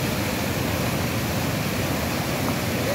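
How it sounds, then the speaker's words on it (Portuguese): Rainwater rushing downhill through dense brush and forming a small waterfall after heavy rain, a steady, loud hissing roar that stays constant and close throughout, no voices. "Descendo água com força, viu?"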